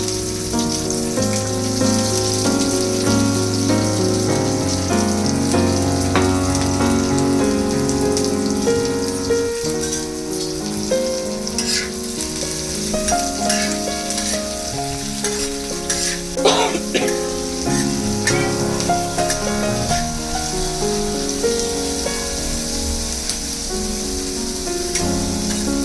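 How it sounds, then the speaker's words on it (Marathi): Onion frying in a spoonful of oil on a hot griddle for prawn masala, a steady, close sizzle with crackling pops running continuously under background music, no one speaking. "1 चमचा तेल टाकायचं आहे आणि कांदा भाजायला लावायचा"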